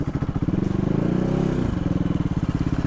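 Big single-cylinder CCM Bobber motorcycle engine thumping close by, with a rising rev and a lurch as the clutch catches, then settling back into a steady loping idle pulse.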